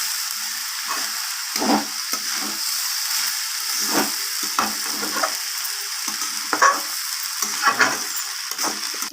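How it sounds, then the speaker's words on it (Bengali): Rice and lentils frying together in a pan for bhog khichuri, a steady sizzle broken by repeated scraping strokes of a spoon stirring the mix, close and alone. "চাল আর ডাল আবারও আমি ভালোভাবে ভেজে নেব একসাথে মিশিয়ে"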